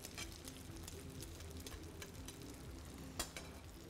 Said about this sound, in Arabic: ضل علينا نحط الثوم المقطع الى حلقات بهاي الطريقة